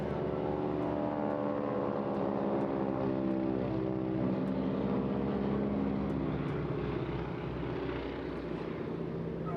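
Vintage barnstorming-era biplanes perform an aerobatic air show display at the Bournemouth Air Festival, their propeller engines droning loud and steady throughout with a sustained, slightly wavering hum.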